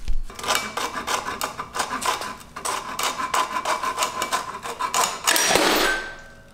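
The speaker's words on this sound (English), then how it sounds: "So let's go ahead and cut this belt and try not to get hit in the face." An engine drive belt being cut off an Evo 9 motor, with rapid rough rasping strokes in a steady sawing rhythm and a louder scraping burst near the end.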